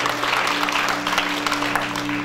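Church congregation clapping in a brief burst, with a steady hum beneath the dense, even applause.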